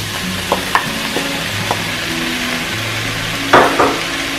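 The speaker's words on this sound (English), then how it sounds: "And you're going to stir fry this" Okra stir-frying in a pan with ginger, garlic and spices gives off a steady low sizzle, broken by a few light clicks of stirring and a louder scrape near the end.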